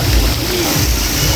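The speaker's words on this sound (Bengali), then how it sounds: "ও এদিকে পানি পড়তেছে।" Water pours steadily into a five-star hotel swimming pool, a continuous close splashing rush without pause.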